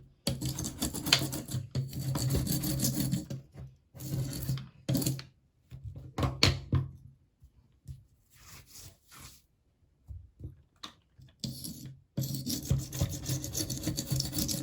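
Old gunk scraped off with a hand scraper during an LED faucet install: long, loud rasping strokes in bursts, separated by near-silent pauses, close to the microphone with no speech.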